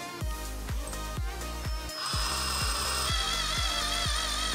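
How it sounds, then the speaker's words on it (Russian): A glass cup is drilled with a glass and tile drill bit, giving a steady, regular whirring drone with rhythmic pulses of grinding, rising to a brighter, shrill whine partway through, close and alone. "Попробуем просверлить вот эту чашку."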